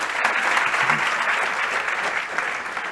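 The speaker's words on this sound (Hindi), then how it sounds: "एक बार जोरदार ताली दे दो बेटा।" A classroom audience of students claps loudly and steadily for the full stretch, a dense, even wash of applause with no pauses and no clear voices over it.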